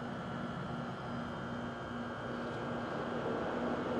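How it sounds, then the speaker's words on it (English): A steady air conditioner hum drones on evenly throughout, a constant low whirring blanket of noise with no voices. "the noise of the air conditioner"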